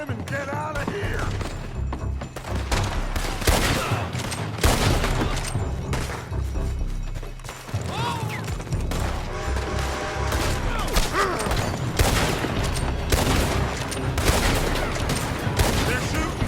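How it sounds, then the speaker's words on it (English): Pinkerton agents open fire during a Red Dead Redemption 2 shootout: dense, continuous volleys of gunshots with booming reports and rapid bursts, layered with thuds and mechanical clatter, loud and close throughout. "They're shooting from that building."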